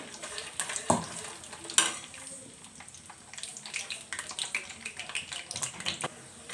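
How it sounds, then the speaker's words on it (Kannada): Chana dal, urad dal and peanuts fry in a pan with a soft continuous sizzle and occasional stirring clatter, low and close, with talk over it. "ಈಗ ಅದಕ್ಕೇ ನಾನು ಇದರಲ್ಲಿ ಕಡಲೆಬೇಳೆ, ಉದ್ದಿನಬೇಳೆ, ಕಡಲೆ ಬೀಜದ ಸೊ ಹಾಕ್ತಾಯಿದ್ದೀನಿ. ಇದು ಸ್ವಲ್ಪ ಚೆನ್ನಾಗಿ ಫ್ರೈ ಆಗಲಿ."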